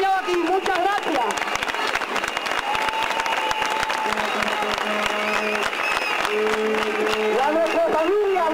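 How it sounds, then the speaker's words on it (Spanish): Demonstrating workers of the Alfonso Gallardo company in Jerez de los Caballeros break into sustained applause, a dense crowd of clapping hands with cheering voices and shouts over it, loud and continuous from start to finish. "Y un aplauso para todos vosotros, que nos habéis apoyado aquí"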